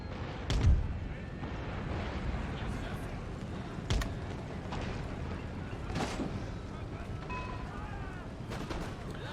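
Occasional booming cannon shots from the video game Empire: Total War, a few seconds apart, over a constant dense roar of battle noise and distant crackling gunfire.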